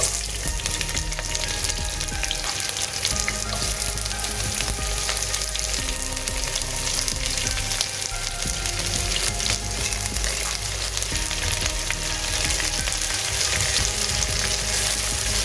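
Steady, dense sizzling of finely sliced onions frying in hot oil with bay leaves, close and continuous, with occasional stirring scrapes and no voices.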